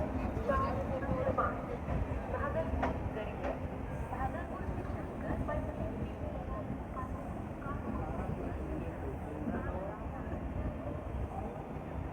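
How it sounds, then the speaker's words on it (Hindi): The Amrit Bharat Express pulls out of Rajendra Nagar on its first commercial run, a steady low rumble and rattle of rolling rail cars that holds for the whole stretch, with faint speech beneath. "तो फर्स्ट कमर्शियल रन पे राजेंद्र नगर से निकल चुकी है अपनी अमृत भारत"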